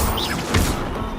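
A Protego shield charm cast in a trippy wizard video game, a brief bright swish with a soft impact thud under steady background game music, lasting about a second.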